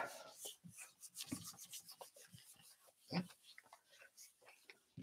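A hand rubs over a stencil laid on deli paper with quick, uneven strokes, making soft, close, papery scrubbing sounds over several seconds.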